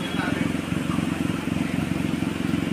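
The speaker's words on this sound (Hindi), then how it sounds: "आइडलिंग हमारे RPM होने चाहिए 1000 से नीचे नीचे, तो 900 के आसपास है" A Maruti Alto 800 car engine idles at about 900 RPM with the AC off, a steady pulsing low rumble heard close and evenly throughout.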